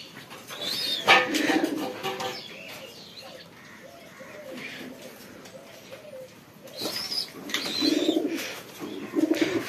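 Pigeons kept in a loft, including young birds, coo in repeated low throaty bursts close by, with soft chirps and rustling between calls and no clear speech.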